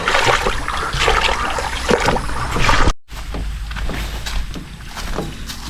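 Someone wades across a cold creek, close splashing and sloshing water with surges of churning, and no clear talk.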